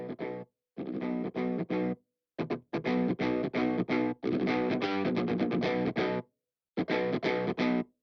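Distorted electric guitar played through the MMS Clairvoyant amp sim plugin chugs out tight, palm-muted riffs in short bursts separated by clean silences, loud and close with no voices.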